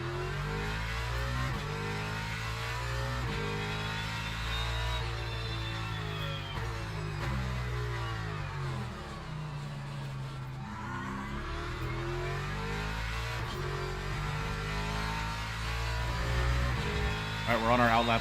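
GT3 race car engine in the sim racing game Le Mans Ultimate, a steady loud mid-pitched drone with rising and falling revs through gear changes, continuous throughout with a voice talking over it.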